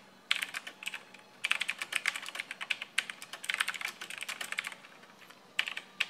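Bursts of rapid typing on a LingYi mechanical keyboard fitted with Otemu blue switches, sharp clicky keystrokes in several runs separated by short pauses, close and clear with no talking.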